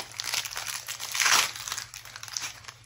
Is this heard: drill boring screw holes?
no